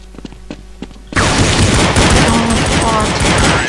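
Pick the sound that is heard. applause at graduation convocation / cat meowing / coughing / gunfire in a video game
gunfire in a video game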